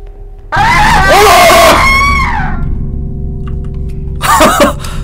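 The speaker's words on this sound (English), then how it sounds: "I'm gonna need a replay on that scream" A loud, sustained scream from a horror video game, wavering in pitch for over a second before fading, followed a few seconds later by a shorter second shriek over a low background hum.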